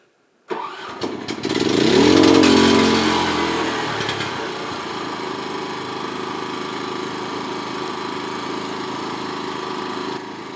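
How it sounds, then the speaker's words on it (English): A Genmax 10500 XIT inverter generator with remote start fires up and settles into a steady low-idle hum, heard from about 30 to 35 feet away, moderately loud and continuous with no talking. "this is a decibel test. It's in low idle"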